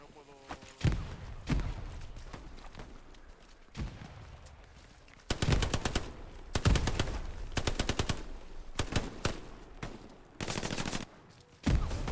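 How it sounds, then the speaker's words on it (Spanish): Semi-automatic and machine-gun fire in a Hell Let Loose night defense battle, bursts of rapid shots at varying distances with pauses between, mixed with voices talking over them. "Recibo disparos de semiautomática por 72."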